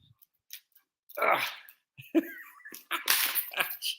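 A muscular dog plays and tugs during an outback livestream, giving short whimpers, snuffles and yips in scattered bursts, with a few faint sounds of a person nearby.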